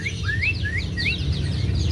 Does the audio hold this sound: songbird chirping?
yes